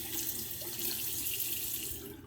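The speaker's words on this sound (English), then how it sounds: "I'm gonna do a quick cold water rinse" Cold water pours steadily from a tap during a razor shave rinse, a close, continuous hiss that stays even for a couple of seconds before tapering slightly at the end.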